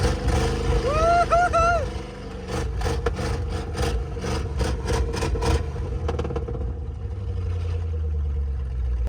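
An abandoned big block Ford 4x4 truck engine rumbles low and heavy as it revs, with a whooping shout over the start and a series of rapid sharp knocks before a steady deep idle.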